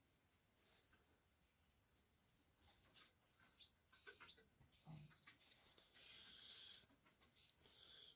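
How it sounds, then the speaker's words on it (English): Birds calling outdoors in the evening after eight o'clock: repeated short, high, sweeping chirps and whistles at a regular pace, moderately distant over a quiet background. "You hear them birds in the background."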